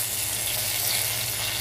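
Curry leaves sizzle in hot oil with cardamom for a Kerala-style fish molly, a steady, close, hissing fry with no talk over it.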